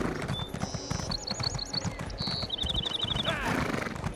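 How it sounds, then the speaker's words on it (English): Hooves of a lightly armored horse clip-clop in a steady trot in a fantasy online role-playing game, mixed with chiming interface tones and someone talking over them. "Slightly armored horse,"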